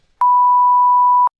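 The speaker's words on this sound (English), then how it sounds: "I can use the beep" A single steady censor beep, one tone held for about a second, loud and alone with no talk around it.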